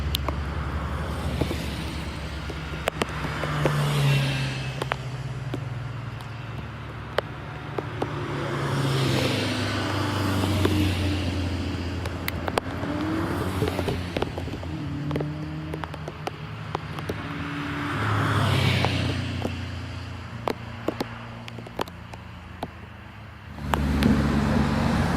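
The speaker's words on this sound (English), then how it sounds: "So should be seeing cars coming down the hill now" Racing cars descend a hillclimb course at Doune during a British Championship event in light rain, engines swelling past in several distinct waves over steady roadway and rain noise, moderately loud and mid-distance.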